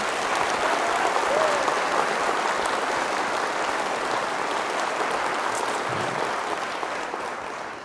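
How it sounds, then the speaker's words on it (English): A large audience at Augusta University's fall kick-off event claps in a continuous, dense round of applause that holds steady and tapers slightly toward the end. "Let's give these individuals a round of applause as well."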